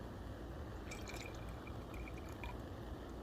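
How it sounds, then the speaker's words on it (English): Water poured from a bottle into a camping pot on a gas stove at an overnight hiking camp, a steady trickling and splashing that runs close and continuous over low background rumble. "I'm going to put a little more water in here"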